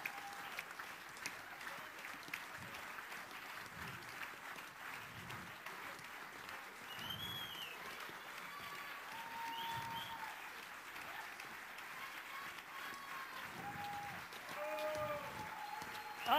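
Audience applause after a stage show, a steady wash of clapping from a crowd, fairly distant and even throughout with faint voices mixed in.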